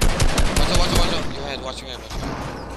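Dense rapid gunfire in a shooter video game, loud automatic bursts crowding the first second and then thinning out, with a voice faintly underneath.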